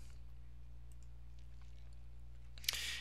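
A single sharp mouse click on a sign-in button near the end, preceded by steady low hum and quiet room noise.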